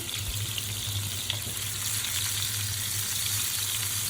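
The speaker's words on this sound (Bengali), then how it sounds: "তেল গরম হওয়ার পরে একে একে মাছগুলো সাজা দিলাম" Pangas fish pieces frying in hot oil in a pan, a dense continuous sizzle and crackle held close and steady throughout, with a low hum underneath.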